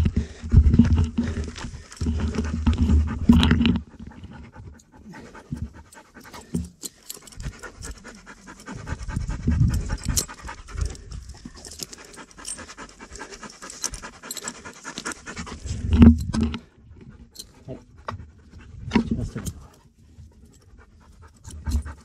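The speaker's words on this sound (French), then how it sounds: "il y a un chien juste en face, je vais rattacher le mien" A dog pants close by on a mountain trail descending from the Plomb du Cantal, in rapid rhythmic breaths that come in heavy bursts with quieter gaps, mixed with footsteps and rustling.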